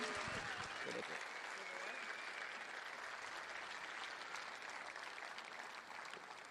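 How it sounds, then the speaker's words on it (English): Applause fills the room at a Diamond League athletics press conference at Bislett in Oslo, a soft, distant but continuous patter of clapping with a brief voice near the start. "So I would like, on the behalf of the Bislett spectators, a big applause"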